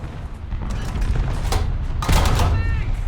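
Tank cannon fire in War Thunder from a Prototyp VK 3002 (M), with a loud boom and crackling blast near the two-second mark over a steady low engine rumble and earlier scattered battle noise.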